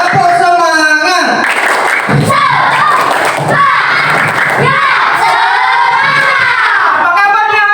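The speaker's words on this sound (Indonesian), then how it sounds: "Tepuk semangat." A crowd of children chants and shouts in unison while clapping along in a rhythmic pattern, loud and lively.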